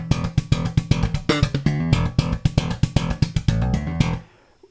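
Funky slap bass line, with fast percussive thumb slaps and popped notes in a driving, steady rhythm, loud and close, ending in a sudden stop.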